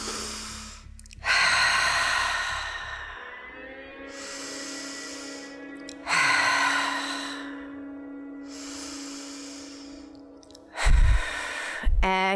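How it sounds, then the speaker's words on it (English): Slow deep breaths during a yoga exercise, long hissing inhales and exhales alternating in a steady rhythm, close and clear, with a brief faint voice near the end. "We're going to take 3 deep breaths here."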